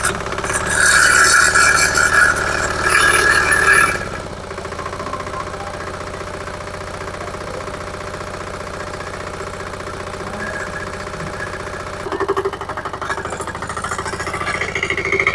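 Lohan Agro power tiller engine at a demonstration at a university fair in Modipuram, running loud and rough for the first four seconds, then settling to a steady idle hum before rising again near the end.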